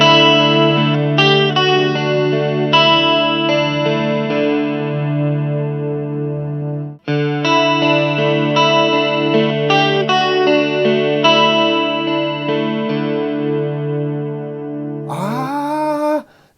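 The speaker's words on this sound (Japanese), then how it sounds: "中のエフェクトは1個目が RC ドライブ、そして2個目がディチューン、コーラスですね。 そして3つ目がアナログディレイ。" An electric guitar plays through a ZOOM MS-50G+ multi-effects pedal chained with RC drive, detune chorus and analog delay. Distorted, shimmering notes and chords ring out with trailing echoes, then break briefly before resuming and ending in a bent, sliding flourish.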